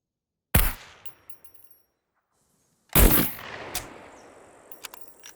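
Two sharp, loud gunshots in Scum, spaced a couple of seconds apart, each with a short ringing tail and faint clatter afterward against near silence.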